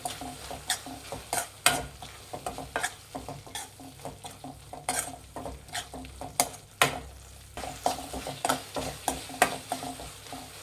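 Tomato gojju with chilli powder being stirred in a pan: a steady run of scraping spoon strokes with clicks against the metal over a soft background sizzle, close and fairly loud, with no voices.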